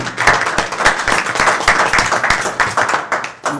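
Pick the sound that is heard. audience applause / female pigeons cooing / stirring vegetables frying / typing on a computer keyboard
audience applause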